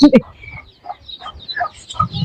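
A chicken clucks loudly and close at the start, followed by softer intermittent clucks and chirps of chicks, with people talking nearby.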